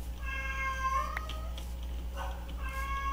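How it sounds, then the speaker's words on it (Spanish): A cat meows several times in drawn-out, tonal cries, fairly close, over a steady low hum with no one talking. "disculpen si escuchan a mi gato maullando"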